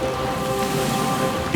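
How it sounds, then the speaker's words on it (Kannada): Cartoon-style steady rain hiss spreads evenly across the whole moment, a continuous wash of drops with faint tonal music lines beneath and a small splash near the end. "ಮಳೆ ಬಂತು, ಮಳೆ ಬಂತು"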